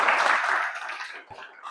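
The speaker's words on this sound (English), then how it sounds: "Applause everybody" Applause from a class at a seminar on meetings, conferences and exhibitions, a dense wash of many hands that is loud at first and thins out over under two seconds.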